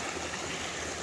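A mountain stream rushes steadily at a trail water crossing on the Appalachian Trail in the Smoky Mountains, a dense, unbroken wash of flowing water heard close and alone.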